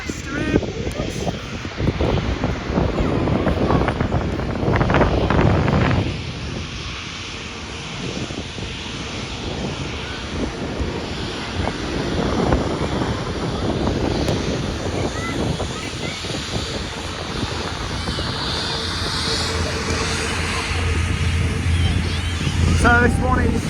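A jet airliner taxis after landing at Manchester Airport, its engines a broad steady roar heard from an outdoor viewing area, mixed with heavy wind buffeting on the microphone throughout.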